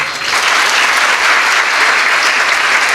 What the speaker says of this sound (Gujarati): આ મા બાપને એક વખત તાળીઓથી વધાવો